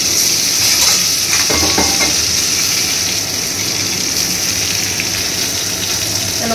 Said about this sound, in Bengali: বেগুনগুলো হালকা ফ্রাই করে নিব, নিয়ে তুলে নেবো।